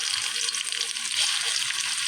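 Onions fried until reddish are stirred in a pan with ginger and garlic for a pangash fish curry, giving a steady bright hiss of sizzling oil close by with faint stirring.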